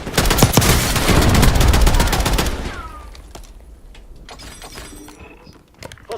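Loud, dense gunfire bursts close by in Call of Duty Warzone for about two seconds, then fades to scattered distant shots and game noise.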